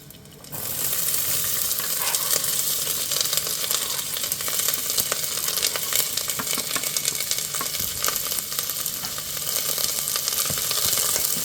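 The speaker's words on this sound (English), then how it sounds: "we're going to go straight in with our onions." Onions dropped into a thin coating of hot oil in a pot start a loud, dense sizzle that holds steady for several seconds, with light stirring scrapes and no voices.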